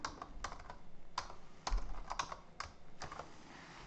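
Rapid, irregular keystrokes on a computer keyboard as a password is typed while setting up a user account, close and clear with short pauses between bursts of key presses and no speech.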